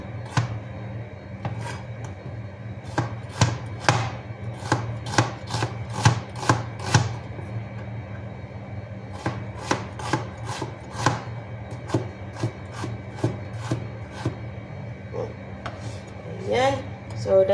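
A dull kitchen knife chops on a board in a home kitchen, giving sharp, uneven bursts of knocks, some in quick runs and some spaced apart, over a low steady hum.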